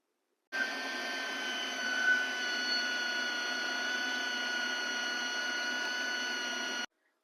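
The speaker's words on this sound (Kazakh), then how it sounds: "ірі көлемде ет тартқышымызды қосып, майда көзінен өткізіп жатырмын" A large electric meat grinder runs steadily, mincing beef fat through a fine plate: a loud, continuous motor whine and grinding hum that starts abruptly, holds evenly for about six seconds, then cuts off, with no talking.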